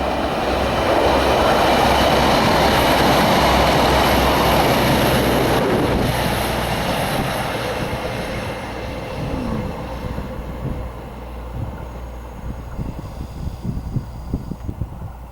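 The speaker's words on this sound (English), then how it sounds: "Stand up and get a decent picture of the train coming" A train rumbles past nearby on a remote line near Corrour and Rannoch, a loud steady roar that slowly fades, followed by softer rhythmic clacking of the wheels.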